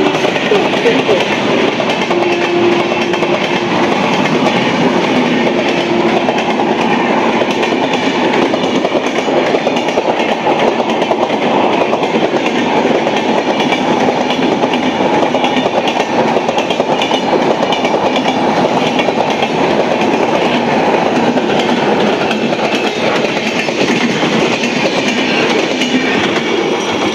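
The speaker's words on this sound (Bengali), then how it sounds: "Through train will be passing from platform number 1, please keep safe distance." An express train runs through Baranagar station on the Kolkata suburban line, giving a loud, steady rumble of wheels and carriages for the whole stretch. Voices can be heard now and then under the noise.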